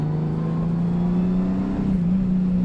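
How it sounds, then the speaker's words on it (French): A 2024 Honda Goldwing Tour motorcycle accelerates in sport mode. Its engine holds a loud, steady hum, and its pitch dips briefly as if shifting gear, then carries on. "on va passer en mode sport et vous allez voir que la moto prend un tout autre visage"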